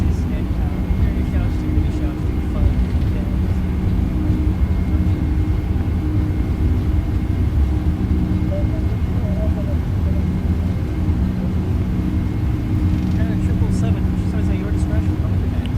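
Boeing 767 freighter in X-Plane 11, Atlas Air cargo operation, rolling down the runway on takeoff: a steady, loud low-frequency engine roar and rumble held constant throughout, with faint cockpit noises near the end.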